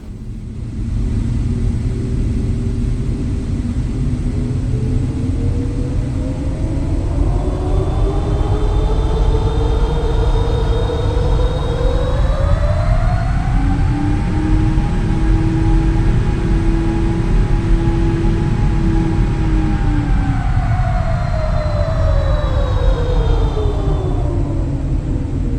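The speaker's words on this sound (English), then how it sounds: "And in the passenger view, it sounds like this." Boeing 777 engines heard from the passenger cabin in the PMDG flight simulator, a constant dense rumble and hiss with droning tones that swell upward in pitch midway and then settle, steady and without talk.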